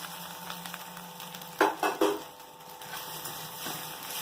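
Cooked rice sizzles softly in ghee with fenugreek leaves as a spoon stirs and scrapes the pan in a few distinct strokes, fairly quiet and without talk.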